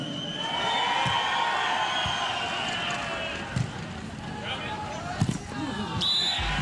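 Spectators at a 2015 FIVB World Championships beach volleyball match cheer for the Australian men's team, a sustained roar with a few sharp thuds and claps breaking through.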